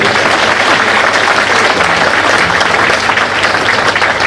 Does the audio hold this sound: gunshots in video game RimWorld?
no